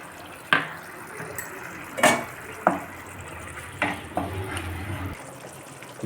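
Green chilli, mustard and poppy seed paste for a potol posto dish fries in a pan with a soft steady sizzle, broken by a handful of clear clinks and scrapes of a spoon against the metal.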